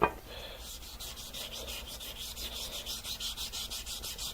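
Sanding scratches out of a part that had been rubbing against a steel table, a steady rhythmic rasping with repeated back-and-forth strokes, close and alone with no talking.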